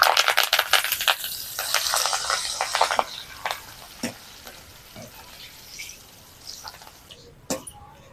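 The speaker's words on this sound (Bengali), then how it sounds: "কারি পাতাটাও ভাজা হয়ে গেছে উঠিয়ে নিচ্ছি" Curry leaves crackle and sizzle briskly in hot oil while chanachur is being made, then the frying fades to a quieter bubbling with occasional clinks of a utensil.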